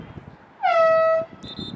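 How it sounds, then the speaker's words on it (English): A single loud air horn blast lasting about half a second, with a brief higher tone after it, over faint background crowd noise, ending a period at a boys varsity lacrosse game. "Air horn sounds, and that ends the third."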